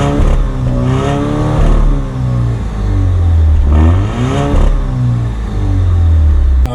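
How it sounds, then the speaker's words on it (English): A 2021 Alfa Romeo Stelvio Sprint with its 2-liter engine revs loud and close, the exhaust note rising and falling through several throttle swells over a steady rumble. "Now, obviously the exhaust isn't the best thing in the world,"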